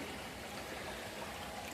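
Freezing cold, spring-fed creek running steadily nearby, a continuous broadband wash of flowing water with no pauses and no voices.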